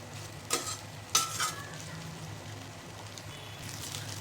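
Vegetables cooking uncovered in a pan give a soft, continuous sizzle and low hum, with a few brief clinks or stirring scrapes near the start, quiet and close, no speech.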